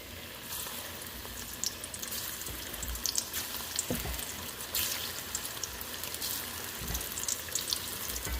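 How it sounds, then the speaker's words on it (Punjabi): Paneer pakoras fry in hot oil on a high gas flame, a steady close crackling sizzle with scattered pops and faint clinks throughout. "ਹੁਣ ਆਪਾਂ ਤੇਲ ਦੇ ਵਿੱਚ ਸਾਰੇ ਪਕੌੜੇ ਜਿਹੜੇ ਆਪਾਂ ਪਾ ਦਈਏ"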